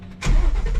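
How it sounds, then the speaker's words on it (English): A Mustang drift car's engine cranks and fires at close range, a short quiet lead-in giving way to a loud, rumbling start that settles into a rough idle. "I'm gonna have to turn the car on because it's getting way too hard to turn."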